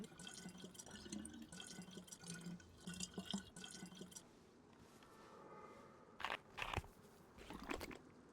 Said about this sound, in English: Drink that whole thing of water.